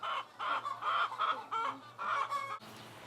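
Chickens cluck in quick, busy bursts close by, several birds overlapping with short pauses between phrases.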